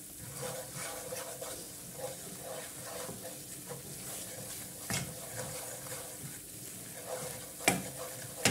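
Flour cooking in melted butter sizzles and crackles steadily in a pan while it is stirred, with soft scraping strokes and occasional sharper clinks of the utensil against the pan, close and moderately loud throughout with no talking.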